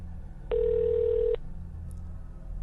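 A single steady ringback tone of an outgoing telephone call, about a second long, over a low background hum, followed by quiet waiting.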